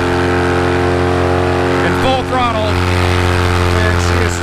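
A SkyMax paramotor engine runs at full throttle with a loud, steady droning hum throughout, and a voice briefly rises over it partway through.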